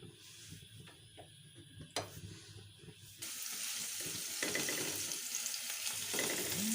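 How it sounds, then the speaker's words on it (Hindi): Green onion frying in a pan until light brown for a tomato egg omelet, a soft steady sizzle that grows fuller and louder partway through, with faint clinks of stirring. "ग्रीन अनियन, इसको भी ब्राउन करेंगे।"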